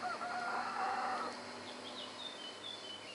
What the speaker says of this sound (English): but especially the birds and the roosters.